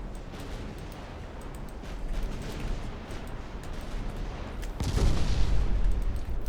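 Naval gunfire and shell hits on a battleship in the naval warfare game Ultimate Admiral Dreadnoughts: a steady roaring rumble of distant guns with scattered thuds, swelling into a heavier, louder boom near the end.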